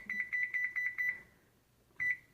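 A kitchen oven timer beeps in a quick run of five evenly spaced electronic beeps, pauses, then gives one more beep, clear and close with no talking.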